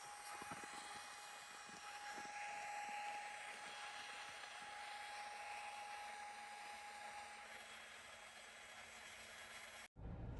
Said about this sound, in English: Check out this built-in electric pump and vacuum button.